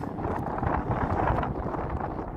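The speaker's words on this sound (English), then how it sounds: "It's really windy out here." Strong wind buffets a microphone outdoors on a morning walk in an open space in Las Vegas, a steady, loud rumbling roar that continues without a break for the whole stretch.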